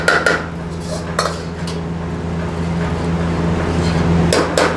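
Ladle stirring chicken curry in a metal pot with cashew paste, giving loud sharp clinks and scrapes against the pot at the start and end, with a softer steady scraping in between.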